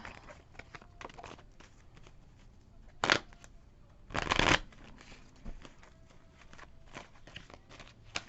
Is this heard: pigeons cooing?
no